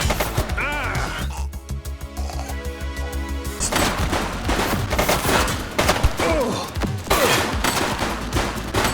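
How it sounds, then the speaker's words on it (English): Gunfire in the police game The Precinct, a burst of rapid shots loud in the mix alongside music and game effects, with voices heard over the action. "She's shooting!"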